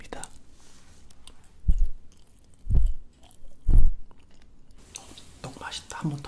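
Soft close-up chewing of squishy, rubbery Korean rice cake (tteok), three distinct wet, muffled bites spaced about a second apart, with faint whispery voice around them.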